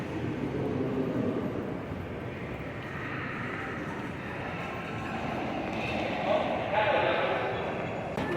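Steady rumble of a train in a Paris station, bound for Charles de Gaulle airport, with a broad low roar and faint background voices throughout.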